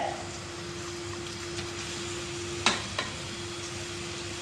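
Chopped onions frying in coconut oil in a pan for duck curry, a faint steady sizzle with a low hum underneath and a couple of sharp utensil clinks.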